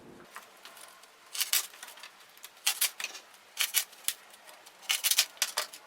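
Quick snips cutting small pieces for a model tank tread, a string of short crisp cutting bursts in uneven clusters, close and fairly quiet.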